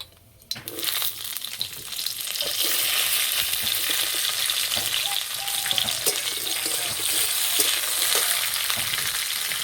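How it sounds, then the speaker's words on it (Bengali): Flat beans hit hot oil tempered with black cumin, bursting into a loud, continuous sizzle and crackle that holds steady, with faint stirring clinks. "এবার সিম দিয়ে দেবো"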